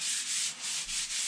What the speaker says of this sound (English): Try to keep your sanding in the same direction as the grain.